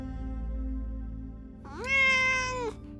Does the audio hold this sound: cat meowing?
yes